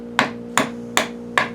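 A hammer strikes wood four times at an even, unhurried pace, each blow a sharp crack over a low steady hum, with no talking.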